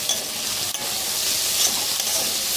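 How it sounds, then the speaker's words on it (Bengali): Chopped medium onion sizzles loudly in hot oil in a pan, a steady bright frying hiss with a couple of quick scraping stirs, no voices. "পেঁয়াজটা আমি একটু ভেজে নিচ্ছি।"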